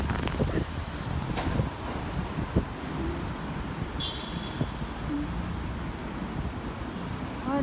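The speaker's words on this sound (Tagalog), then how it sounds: "Ang lakas ng hangin" Strong gusty wind roars and buffets the microphone outdoors along a daily walking route, a loud, continuous broadband rush with small knocks and rustles throughout.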